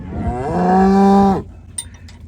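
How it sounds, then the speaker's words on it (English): A single cow on a farm lets out one long, loud, close moo lasting about a second, then the sound drops to quiet farmyard background. "just doing the rounds on the cows"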